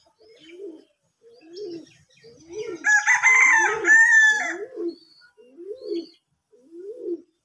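A rooster crows loudly and close at a small backyard poultry farm with cages, pigeons and ducks, while chickens give a series of short evenly spaced clucks before and after the long crow.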